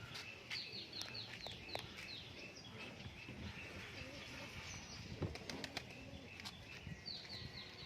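Lotan pigeons in a loft, with soft cooing and repeated bursts of wing flapping close by, faint under quiet background noise and occasional low voices.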